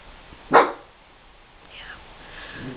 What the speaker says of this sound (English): This is the only time my dog wants to bark.